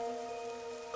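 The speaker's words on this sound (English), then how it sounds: "The rain, it never stops." Rain falls steadily in the video game Rain Code, a soft continuous patter on surfaces under a sustained tonal music bed, faint and brief, with no talking.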